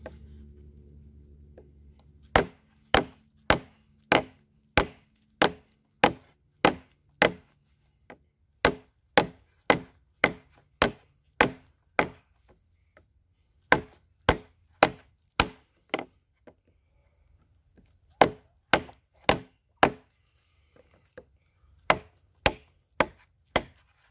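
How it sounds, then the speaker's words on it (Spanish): Muela M 85181 knife used machete-style, delivering sharp, loud wooden chopping strikes in quick regular bursts with short pauses between runs, about thirty blows in all, with no talking. "vamos a ver por macheteo a ver cómo se comporta"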